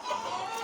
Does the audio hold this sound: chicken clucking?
yes